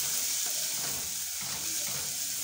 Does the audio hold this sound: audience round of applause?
no